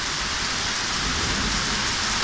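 Heavy rain pours steadily during a thunderstorm over Fürstenwalde, a dense continuous roar with low rumbling thunder underneath, loud and close throughout with no pauses.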